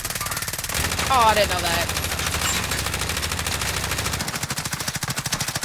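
Rapid automatic gunfire from Call of Duty: Modern Warfare hammers on without a break, loud and close. A player's voice talks briefly over the shots.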